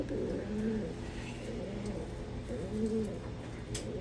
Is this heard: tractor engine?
no